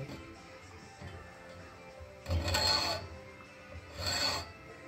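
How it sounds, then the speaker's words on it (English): A hacksaw widening the slot of a guitar nut gives short, rasping strokes, two of them louder, over a quieter scraping background. "So I'm going to use the hacksaw."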